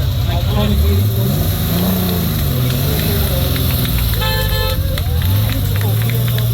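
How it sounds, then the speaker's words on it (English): A BMW Z8 engine revs and rolls in at a 1000 Miglia rally finish, its pitch swooping up and down under constant loud commentary and crowd noise. "Beautiful BMW car number 35."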